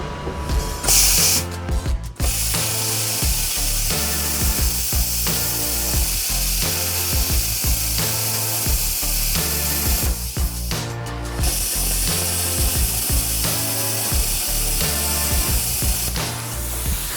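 A plasma cutter at reduced power slices through thick steel plate in an off-grid workshop, producing a loud, continuous hiss and buzz with crackling texture, flaring harsher near the start and again around the middle.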